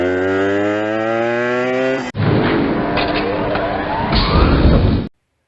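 A 1970s Yamaha Enduro 125 two-stroke motorcycle, back on the road after sitting for twenty years, drones with a steadily rising engine pitch, then gives way to loud, rushing riding noise that cuts off abruptly.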